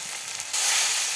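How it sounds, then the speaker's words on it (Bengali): Chopped okra fries in hot oil with spices, a bright, close hiss that jumps louder halfway through as more oil is added. "ঢেঁড়সের ভাজিতে আর একটু তেল দিয়ে দিচ্ছে।"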